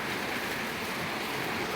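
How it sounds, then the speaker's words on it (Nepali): Steady rain falls outdoors near flowering plants, a continuous dense hiss of drops with no breaks, moderately loud and even throughout. "पानी पर्दैछ हेर्नुहोस् है गाइजहरू"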